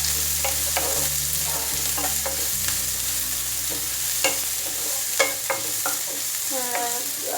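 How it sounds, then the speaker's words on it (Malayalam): Onion with crushed ginger and garlic frying in a pan for black-eyed bean curry, a steady sizzle broken by repeated clicks and scrapes of a spoon stirring against the metal. "ഇതിലേക്ക് സവാള, ഇഞ്ചി വെളുത്തുള്ളി ചതച്ചത് ചേർത്ത് കൊടുക്കാം. നന്നായിട്ട് വഴറ്റും."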